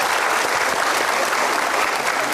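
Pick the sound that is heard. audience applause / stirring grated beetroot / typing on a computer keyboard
audience applause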